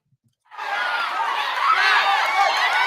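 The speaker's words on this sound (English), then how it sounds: "The crowd went wild." A crowd-cheering sound effect bursts in after a short silence, a loud wash of many voices cheering and shouting that holds steady to the end.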